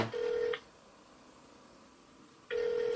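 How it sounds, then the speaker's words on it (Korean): A steady electronic phone tone from an Apple Watch Series 2 sounds twice, a half-second burst, then two seconds of quiet, then it starts again, clear and close. "제 전화로 만약 전화를 걸어 보겠습니다."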